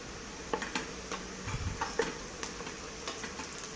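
Chopped onion softening in a frying pan for a tomato mutton curry, with cinnamon and cardamom added, gives a steady low sizzle broken by sharp clicks and scrapes of a spoon against the pan.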